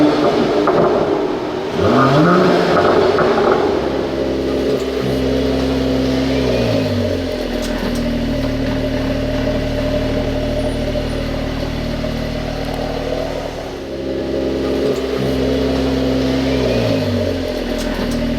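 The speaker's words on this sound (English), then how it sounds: "So let's start the engine and I will show you the driving characteristics in the city." A 2021 Mercedes-AMG E53 Coupe engine runs with a steady loud drone. It rises in revs and pitch several times in repeated waves, heard from inside the cabin while driving.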